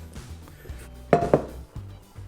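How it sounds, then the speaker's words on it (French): Metal kitchenware clanks and scrapes as a saucepan is rinsed, with two sharp clatters midway and softer knocks around them, close by. "je rince un petit coup aussi la casserole"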